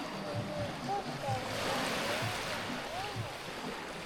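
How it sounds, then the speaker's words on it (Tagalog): Sea waves wash at a shore where boats sit, a soft continuous rushing surf with gentle swells, under faint chatter and bird calls in the distance. "Ganda ng dagat."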